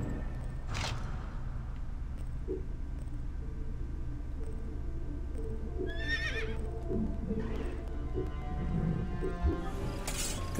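A horse whinnies a few times in the video game Assassin's Creed Origins, spaced apart, over a steady low rumble, with faint hoof clops in between.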